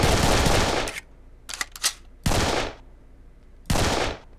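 Heavy automatic gunfire from Serious Sam blasts in three long loud bursts separated by gaps, with a few sharp shorter shots between them, close and dominant with no voices.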